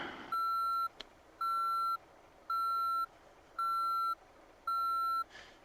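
Reversing alarm of a truck in the driving game Motor Town: five evenly spaced, steady electronic beeps about a second long, each followed by a short gap, clear and alone over a quiet engine hum.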